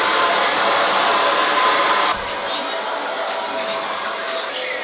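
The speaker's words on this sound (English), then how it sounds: "now we're gonna be drying it with a blow dryer" A handheld blow dryer drying freshly washed hair, a loud continuous airy roar that cuts down abruptly to a quieter, softer setting partway through.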